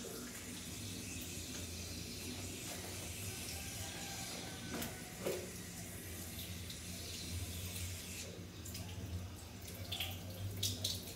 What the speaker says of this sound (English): you need to rinse your hands well